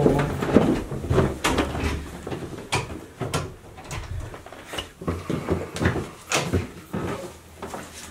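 Door of a basement in a six-unit rental property in Canton, Ohio being tried and rattled, a series of close, sharp knocks and clatters repeating irregularly, with no talk over them.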